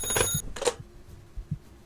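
Telephone ringing in the Calm Down, Stalin video game, a bright electronic ring with harmonic tones sounding in two short bursts, then fading into low thumps and quiet background.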